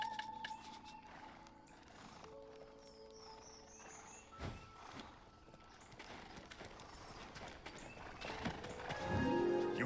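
Horses and donkeys at a video game stable: hooves clip-clop at an easy walking pace over soft crickets and ambient tones, with a louder stir of movement near the end.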